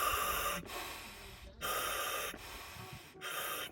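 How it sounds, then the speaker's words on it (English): Three long, hissing inhalations through a scuba primary regulator, each cut off by a short silent gap, steady and close, no talk. "I'm breathing air."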